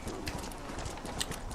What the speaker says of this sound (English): we're on a Horse of the Apocalypse